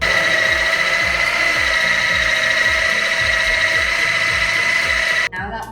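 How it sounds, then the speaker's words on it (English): A food processor churns a sticky pumpkin spice cake crust mixture with a loud, constant whirring motor and a repeating rhythmic thumping as the mixture tumbles. It cuts off abruptly near the end. "now we're gonna process this for about a minute until a thick and sticky texture forms"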